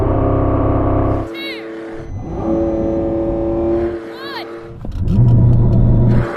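A pair of sports cars, a new Lamborghini flagship against a Ferrari, rev and accelerate loudly off the line in a drag race, close engine roars rising through gears with brief speech between bursts.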